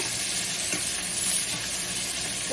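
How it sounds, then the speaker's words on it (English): Pepper steak sears in a hot pan, giving off a loud, steady, hissing sizzle with faint crackles and no talk over it. "searing it a little bit"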